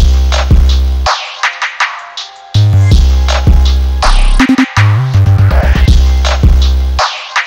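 FL Studio trap beat switching into a halftime section, with heavy booming 808 bass, kick and layered melodic synths that cut out briefly and drop back in; loud and dense, no talking.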